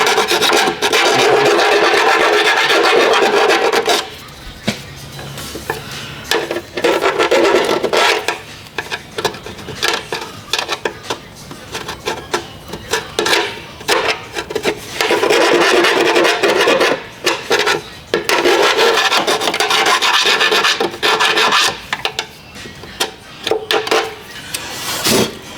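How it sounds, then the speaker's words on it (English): A small hand file rasps back and forth cleaning up a freshly drilled hole during an A/C tuck kit install, with loud, close, repeated scraping strokes in bursts separated by brief pauses. "hit it with a little file just to clean up the"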